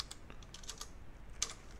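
Quiet keystrokes on a computer keyboard tap out a short, irregular burst of typing, close and soft, with one sharper click near the end and no talking.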